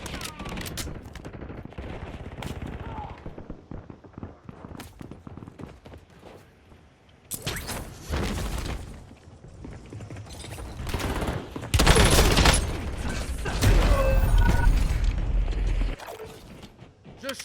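Rapid automatic gunfire in the video game Warzone, rattling bursts that build to loud, dense volleys near the end, with explosion-like thumps and game effects throughout.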